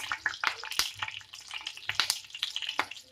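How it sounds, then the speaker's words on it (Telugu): Mustard seeds, spices and peanuts crackle and sizzle in hot oil while tempering for curry leaf rice, with sharp pops and spits over a steady frying hiss, close and fairly quiet. "మనం పోపు కూడా వేసేసుకుందాం"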